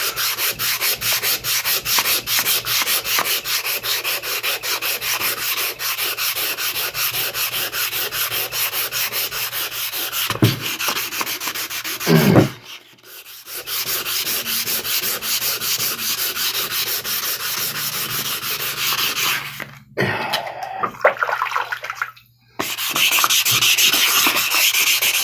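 A sharpening stone is scrubbed hard over sandpaper in a steady, continuous rasping back-and-forth, loud and close, with a few brief pauses and knocks.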